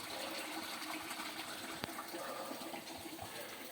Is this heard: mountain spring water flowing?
yes